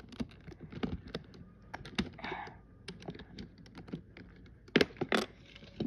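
Lego ATM model pieces being pulled off, a series of sharp plastic clicks and snaps of uneven rhythm, close and fairly quiet, with a brief rustle partway through.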